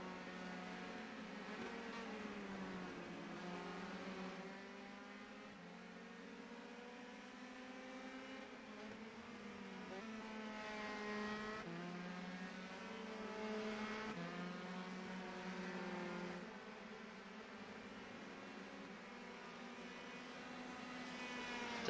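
Race cars in a sim-racing league event at the Belgian Grand Prix circuit, several engines droning together in a steady layered whine with pitch rising and falling through gear changes, continuous and fairly close, no voices over it.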